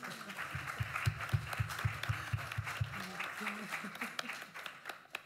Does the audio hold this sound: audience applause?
yes